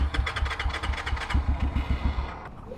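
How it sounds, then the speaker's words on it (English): A Kayo K6-EFI fuel-injected four-stroke dirt bike engine starts with a short starter whir, catches quickly and settles into a rapid, throbbing idle, loud and close. "electronic fuel injection on this one just makes it purr to life instantly"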